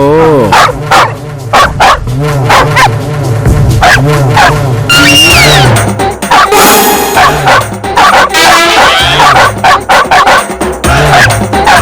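A man imitates a dog, letting out a rapid series of loud, close barks and yips, with other voices reacting amid the noise.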